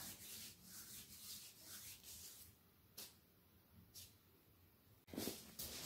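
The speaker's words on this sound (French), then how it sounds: "On frotte le dessus du pied." Hands rub the top of a foot during self-massage, producing soft continuous swishing strokes of skin on skin, quiet and close, with a louder brush at the end.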